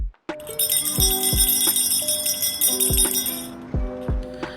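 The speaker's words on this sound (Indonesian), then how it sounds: "Terdengar suara lonceng dari tengah ruangan." A bell rings with a bright, sustained shimmer while soft thuds sound repeatedly underneath, then the ringing fades out.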